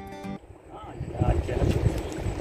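Sea wind at Ponnani beach buffets the microphone with low, gusty rumbling that grows stronger partway through, after a brief voice at the start.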